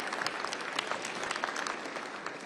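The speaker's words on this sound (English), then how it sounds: "make your clapping fast" Audience applause at a prayer breakfast, a steady dense wash of many hands clapping for a while, with no voices over it.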